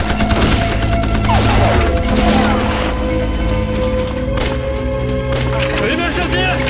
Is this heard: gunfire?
yes